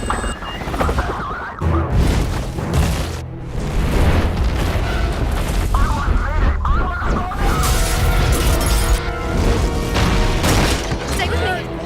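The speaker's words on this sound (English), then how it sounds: "That's a goddamn earthquake! Run!" An earthquake shakes an animated cityscape: dense, loud rumbling with crashes and debris bursts running throughout, while voices shout over the chaos.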